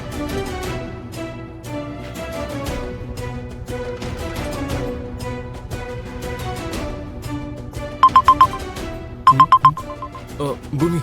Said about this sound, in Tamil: ஃபோன் வருது பாரு